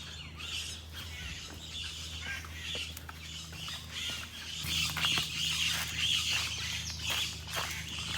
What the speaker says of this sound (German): Ich lasse mal die Vögel sprechen.